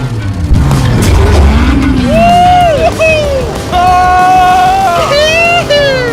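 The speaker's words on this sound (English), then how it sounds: "There's just something so masculine about driving overpriced, loud cars On a private racetrack." An overpriced, loud car drives hard on a private racetrack, its engine revving and whining in rising and falling sweeps, loud and close throughout, while people talk and shout over it.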